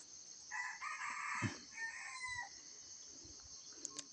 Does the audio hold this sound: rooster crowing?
yes